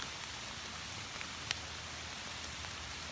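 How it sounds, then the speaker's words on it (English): Steady rain falling outdoors in a garden after a heavy downpour, a soft continuous hiss with a faint drip or tap now and then and no voices. "It's not even raining that hard now."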